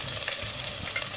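Coconut oil sizzles in a clay pot on a stove, a faint crackling fry with light stirring clinks, close by and without talk.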